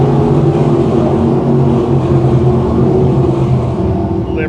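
602 crate sprint cars race around the Can-Am Speedway, a dense loud drone of several engines droning through the turns and down the back straightaway, with a race announcer talking over it.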